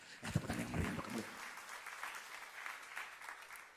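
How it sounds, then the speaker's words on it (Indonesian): Applause from a church congregation during a sermon, a dense steady patter of many hands carrying on for several seconds, with a brief murmur of voices near the start. "tepuk tangan yang meriah untuk kamu"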